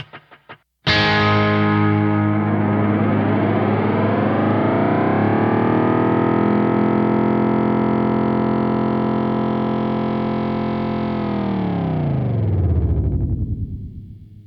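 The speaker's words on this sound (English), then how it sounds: "So let's listen to the delay." A BOSS RE-202 tape echo delay pedal produces a long, dense wash of distorted, repeating echoes that sweeps in pitch and swells. It holds steady and loud before sliding downward and decaying into fading repeats, with no talking.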